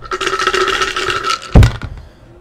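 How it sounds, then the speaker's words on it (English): Dice roll and tumble on a surface during a sports jersey break giveaway, a short rattling clatter ending in a sharp bump, then settling to quiet. "we're going to roll the dice"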